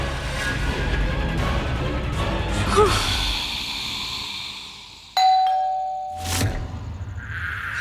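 A doorbell rings in a Hindi TV drama scene: a bright ding-dong chime sounds once loudly and nearby, following a stretch of dramatic background music.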